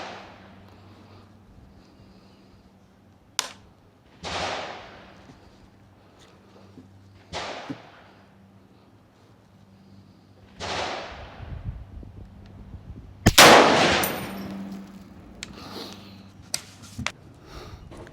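Precision testing of a PSA Sabre rifle, an M110-style gun, with sharp outdoor shots spaced several seconds apart; the blasts are loud with echoing tails, and the last is the strongest.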